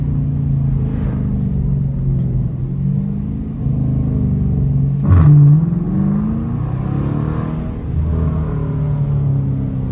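A Dodge Challenger R/T with a straight pipe, muffler delete and resonator rumbles close by at a low, throaty idle, rising into a few short revs that climb and fall back down.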